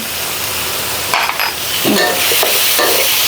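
Stewed beef tendon tossed with sugar, oyster sauce and young chilies in a hot pan for a Thai basil stir-fry, giving a steady close sizzle with scraping stir strokes and a few light clinks.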